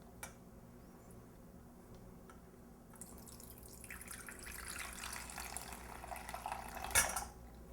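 Ice-cold water is poured into tempura batter, a soft, faint trickle that builds into a steadier stream before a brief louder splash near the end, with no talking.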